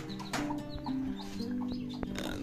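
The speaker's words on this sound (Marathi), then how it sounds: "इथे आम्ही कोंबड्या पाळलेल्या" Chickens kept in a village coop cluck and murmur nearby in short, uneven calls over a low background hum, with no one speaking.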